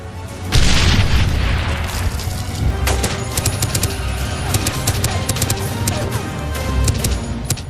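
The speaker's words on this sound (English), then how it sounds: "Using a bomb, they managed to stop the enemy's advance, giving the villagers a chance to get to safety." Bomb explosion in the action film Rogue Warfare, a loud booming blast that opens with a heavy hit and rolls on through sustained rumbling, crashing debris and scattered sharp cracks like distant gunfire.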